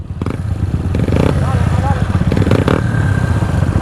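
A motorcycle engine revs in short bursts over a rough idle close by, with several quick throttle blips while someone talks over it.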